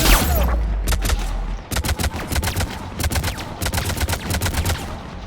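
Rapid bursts of gunfire from snipers in the Mass Effect 3 video game crack repeatedly at close range. The sharp shots come in uneven clusters over a low rumble.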